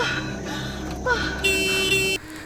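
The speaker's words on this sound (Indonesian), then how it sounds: "Mendengar suara klakson itu, Joe bergegas kembali ke mobil." A car horn sounds in short honks alongside a tonal alarm-like beep, set over steady background noise and a low hum, fairly close and moderately loud.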